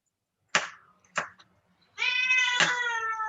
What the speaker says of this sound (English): I hear cat.